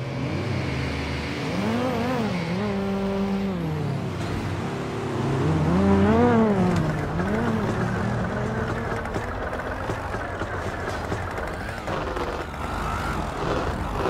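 A racing motorbike engine in a video game revs continuously and loudly, its pitch climbing and dropping in repeated sweeps as the bike accelerates and shifts, with a steady drone underneath.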